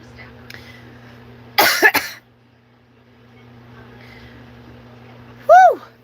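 A person coughs twice, close and loud, with a short burst near the start and another near the end, separated by a quiet indoor pause with a faint steady hum.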